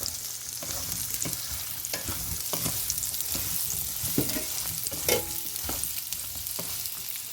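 Ridge gourd curry sizzles and fries steadily in a hot pan, with a spoon scraping and stirring through it at an even, close rhythm and no talking.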